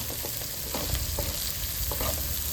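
Mutton pieces coated in chili powder fry in a pan with a dense, steady sizzle and repeated stirring scrapes and knocks, fairly close and loud, with no talking.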